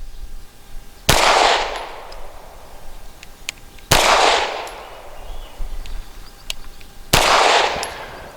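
Three sharp pistol shots from a Grand Power K100D firing frangible ammunition crack out a few seconds apart on an outdoor range, each loud report followed by a brief ringing decay.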